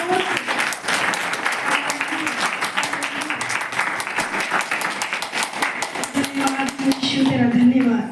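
Church congregation at a Sunday Holy Communion meeting clapping in a brisk, rhythmic burst of many hands, with a voice speaking over it near the end.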